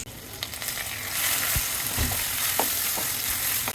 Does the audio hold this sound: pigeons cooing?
no